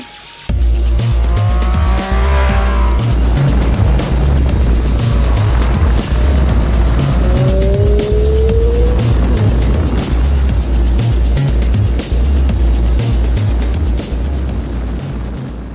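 A 2017 Triumph Street Triple 765 RS motorcycle lapping the Catalunya racetrack in Barcelona, heard as a loud, sustained engine roar with rising and falling revs and wind rush throughout, no talk.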